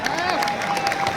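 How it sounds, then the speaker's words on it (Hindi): Applause from an audience at a public speech, a dense continuous patter of clapping with some crowd noise, steady and fairly loud for the whole moment. "क्या इतनी सी तालियां?"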